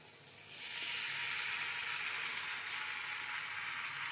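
Chowmein noodles tossed and mixed in a hot frying pan give a steady, close sizzle that rises within the first half second and then holds at an even level, with no voices.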